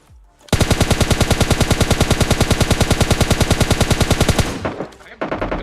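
Sustained automatic-rifle fire in PUBG Mobile Lite: a loud, rapid, evenly spaced burst of shots lasting about four seconds, then a short pause and a few more shots, with no talking.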